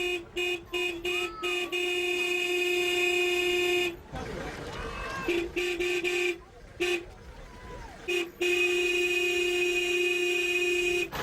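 A truck's horn honking insistently through a crowd of refugees on foot, sounding in long sustained blasts broken by short gaps where a murmur of voices and road noise shows through.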